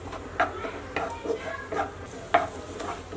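Ginger garlic paste cooks in melted butter with a soft sizzle, broken by a few sharp clinks and scrapes from stirring in the pan.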